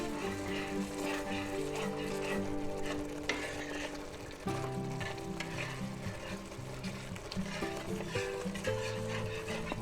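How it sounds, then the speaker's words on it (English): Alfredo sauce for spaghetti simmers and bubbles in a cast iron pan while a utensil stirs through it, giving a continuous close sizzle with soft scraping. "Let's give it a stir here."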